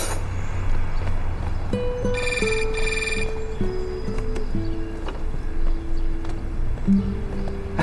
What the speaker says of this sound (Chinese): 来， 老邱，电话。